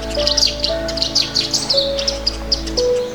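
A cinnamon sparrow sings in the hill country of Pakistan, a rapid series of high, bright chirps and short notes. The song repeats steadily over a low hum.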